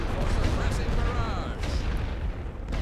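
A rolling artillery barrage from the WWI strategy game The Great War: Western Front, heard as a dense, continuous rumble of booms and blasts that holds steady at a loud level.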